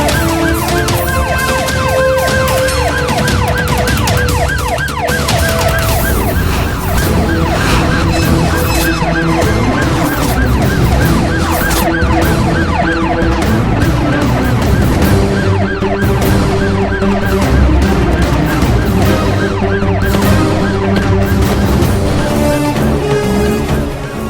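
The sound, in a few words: ambulance siren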